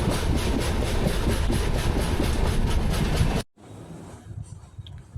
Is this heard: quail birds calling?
no